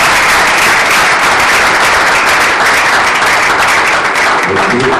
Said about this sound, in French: Sous l'applaudissement, nous accueillons le docteur Remacle Maswaku.